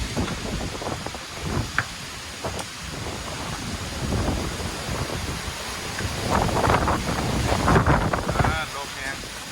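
Strong summer storm wind sweeping over northeastern Thailand in March, a continuous loud roar and buffeting against the microphone with gusts building toward the end, faint voices underneath.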